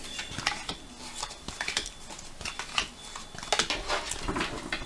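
A deck of tarot cards is cut and handled on a table, giving a run of soft, close slaps and crisp ticks that come in uneven bursts, with quiet gaps between them.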